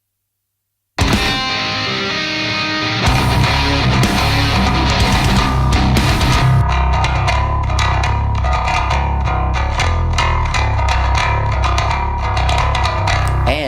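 A distorted bass guitar tone run through an Axe-Fx III with reverb plays in a full band mix, entering after a second of silence with loud, continuous riffing and steady rhythmic hits.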